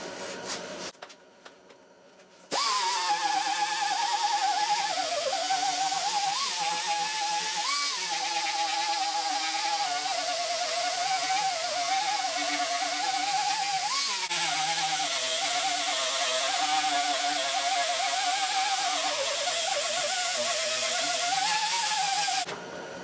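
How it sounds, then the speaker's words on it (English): An electric grinder runs steadily against Bondo body filler on the door of a C10 truck, a continuous high whine with slight pitch wobbles as pressure shifts, loud and close after a short quiet start. "I'm going to go ahead and grind this Bondo out, this body filler"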